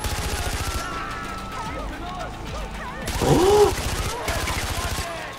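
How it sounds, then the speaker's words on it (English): Gunfire in Far Cry 4 on Xbox One: rapid bursts of automatic fire crackling in near-continuous volleys, with a loud swell in the middle, mixed with game sounds under a player's voice. "It sounds like vicious people are shooting other people up."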